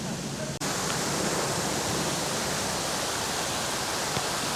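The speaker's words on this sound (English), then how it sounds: "They're called Niagara Falls, and they may well just cut off at 6 p.m." A waterfall called Niagara Falls in a Tokyo garden gives off a steady, close, full rushing roar that holds unbroken after a brief dip at the very start.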